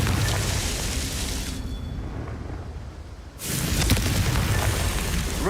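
Confringo blasting spell from Hogwarts Legacy going off: a loud, broad explosive roar for about a second and a half, a brief near-silent gap, then a second heavy blast rumbling on to the end.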